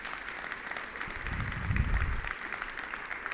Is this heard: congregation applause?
yes